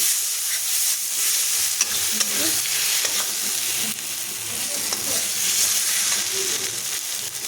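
Spice paste for a Bangla-style egg curry fries hard in a pan, a steady close sizzle running unbroken with faint scraping from stirring.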